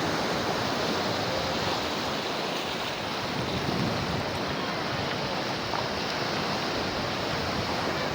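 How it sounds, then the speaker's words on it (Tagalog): A steady, loud roar of sea waves breaking on the shore at Pandan Beach, a continuous wash of surf with wind on the microphone and no pauses. "Dagat naman yun."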